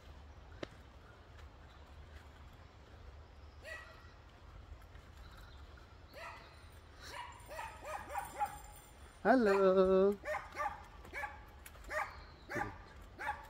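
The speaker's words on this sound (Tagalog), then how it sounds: "Yung aso." A dog barks in scattered bursts outdoors, with one loud, close volley near the end, while a person briefly speaks a greeting.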